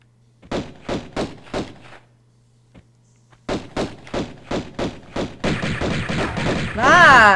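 Magnum pistol fire in the video game Tomb Raider I Remastered: two bursts of sharp, evenly spaced shots, four then about seven, loud and close. A denser rush of noise and a rising whine follow at the end.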